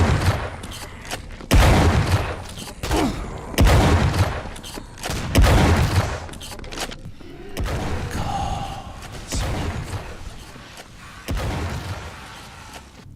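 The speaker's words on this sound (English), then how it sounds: "I could listen to its shotgun all day." Shotgun blasts in ProDeus, a retro Quake-style shooter set in an oppressive steampunk world: a run of loud, punchy shots at irregular intervals, each a sharp boom with a short decaying tail and a softer mechanical rattle in the gaps.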